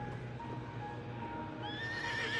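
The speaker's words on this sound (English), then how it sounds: "Shadowbind tosses his head and neighs loudly." A horse neighs loudly in the video game Love and Deepspace, a long whinny rising over a steady hum of game ambience and music, close and alone with no talk.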